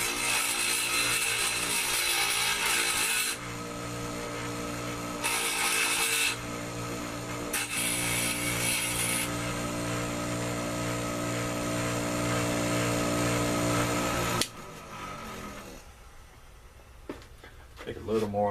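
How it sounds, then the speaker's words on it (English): Bench grinder rounding off and smoothing the sharp edges of a metal driveshaft part in a garage, a loud steady whirring grind held for long stretches with brief pauses, then winding down near the end. "with a bench grinder, you can clean it up, clean up the edges a little bit, round off these edges here so they're not sharp"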